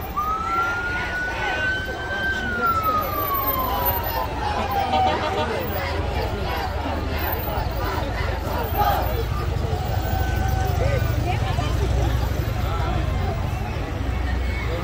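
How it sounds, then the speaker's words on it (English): An ambulance siren wails with rising and falling sweeps at a 2021 Christmas parade in Clovis, New Mexico, carrying steadily over a dense crowd hubbub and passing traffic noise. "It's an ambulance."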